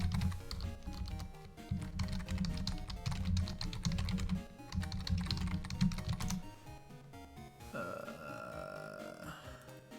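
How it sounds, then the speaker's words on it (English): Rapid typing on a computer keyboard, close and clear, in several dense bursts of key clicks with short pauses between them, then a deep burp near the end. "you're going to hear me type something else, actually"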